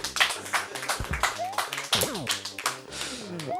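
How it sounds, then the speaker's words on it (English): Applause after a boss is beaten in a Super Mario World speedrun: a steady patter of claps runs under game music and sound effects throughout. "Oh, that is a very bittersweet applause."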